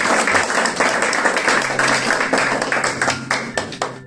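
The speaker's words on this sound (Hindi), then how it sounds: "फिर जोरदार तालियां मेरी इस पर।" Sustained applause from a congregation at a Christmas church service, dense clapping filling the space at a steady level for several seconds, with no speech over it.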